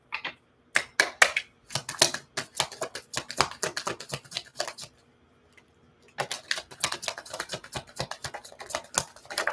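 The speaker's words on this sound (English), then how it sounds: "These cards are falling everywhere." Tarot cards shuffle and slap down close by in quick irregular bursts of crisp papery flicks, pausing briefly before the clatter resumes.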